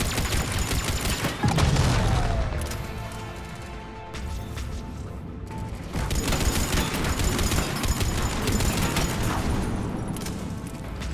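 Gunfire in the video game Mass Effect 3 during combat, dense bursts of shots and booming impacts layered with mechanical effects, loud and continuous throughout, with no talk.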